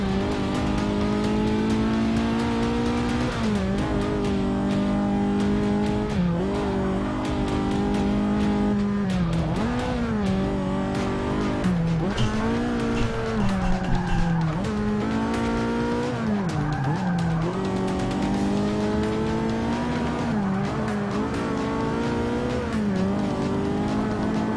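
Race cars roaring through a final lap in Forza Motorsport 6, a loud sustained engine whine rising and dropping with gear shifts, tire squeals and skids scattered through, no commentary.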